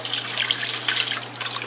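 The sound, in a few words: water being poured out of a cooking pot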